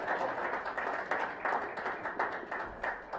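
Audience at a DFCU Bank media launch clapping hands, a steady patter of many claps with rhythmic surges, moderately loud and continuous throughout.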